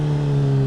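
A motorcycle engine gives a brief, steady, loud mid-pitched drone, close by, with no voices.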